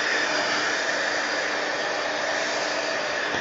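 A hair dryer blows steadily and close up, a constant loud whoosh as it dries matte medium on a mixed media art journal page, with no other sounds.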